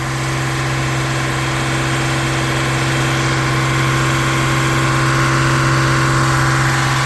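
Car engine held at a steady 2500 RPM during catalytic converter temperature checks, a loud, unchanging mechanical drone with a strong low hum heard close, without voices.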